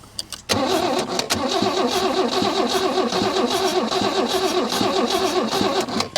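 Holden Commodore engine cranking over after sitting unused for 15 years, a loud, steady rhythmic churn of the starter turning the engine, close up and continuous after a brief click at the start.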